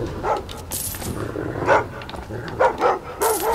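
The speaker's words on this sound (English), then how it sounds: "Shut up, you stupid dog." Dog barking in the video game Thief: a run of barks and yelps, several sharp bursts spread over a few seconds against a steady low background hum, fairly close and loud with no talk.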